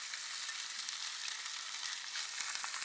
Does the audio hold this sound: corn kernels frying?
yes